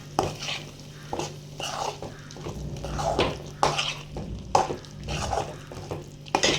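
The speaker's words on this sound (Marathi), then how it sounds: "आता सगळं व्यवस्थित मिक्स करून घेते" A spoon stirs mutton gravy with added spices in a pot, giving repeated rhythmic scraping and wet sloshing strokes with a light sizzle underneath, close and fairly loud, with no talking.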